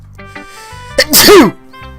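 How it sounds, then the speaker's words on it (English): A single loud, close sneeze with a sharp intake of breath before it, followed by a brief quiet. "By the way, I'm gonna sneeze."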